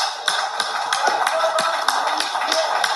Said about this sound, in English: Now, the president is even clapping.